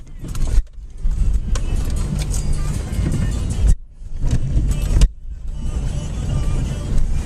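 Inside a moving Subaru car, a loud, steady rumble of road and engine noise fills the cabin. It cuts out briefly a few times and then resumes.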